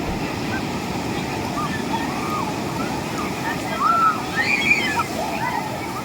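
Sea waves at Machilipatnam beach wash and slosh continuously close by, with a slightly louder surge toward the end and faint distant voices and calls mixed into the surf.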